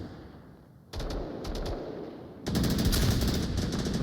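Gunfire in the VR shooter Onward during a competitive match, sharp automatic bursts that jump in loudness partway through and keep rattling close and dense to the end.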